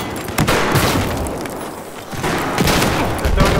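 Grenade blasts in Battlefield 4 on the Guilin Peaks map, a dense, continuous barrage of explosions and gunfire pounding loud and close for several seconds.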